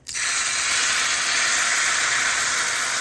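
Hot water cornbread batter sizzles in a hot skillet, a bright, steady hiss that starts abruptly and holds loud and even for a few seconds, with no talk.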